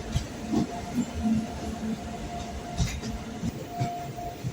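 Express train carriage running on the rails, heard from inside as a steady low rumble with soft irregular knocks and creaks and a faint whistle-like tone now and then.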